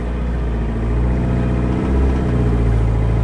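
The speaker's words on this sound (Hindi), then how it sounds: "गाइस फिलहाल मैं जिस गाड़ी को चला रहा हूँ उसके ऊपर एक और गाड़ी रखी हुई है" A car's engine runs steadily while it is driven slowly with a second car loaded on its roof, a continuous mid-pitched hum with slight swells, close and loud with no talk.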